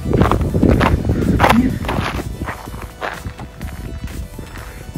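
Footsteps crunch steadily along a mountain trail on Ben Macdui in the Cairngorms, close and fairly loud in an irregular walking rhythm, with a little talking now and then.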